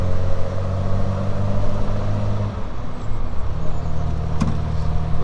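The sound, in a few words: '67 Triumph Vitesse 2 Litre engine driving in fourth gear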